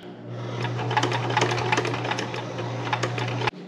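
A sewing machine sews a magnet pocket into a van window curtain with a rapid, clattering stitch rhythm, close and steady for a few seconds before it halts abruptly.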